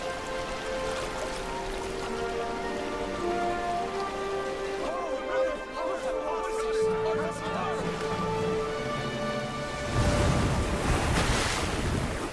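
A river's water rushes loudly as it parts, a continuous roaring surge that grows stronger toward the end, with sustained musical tones underneath.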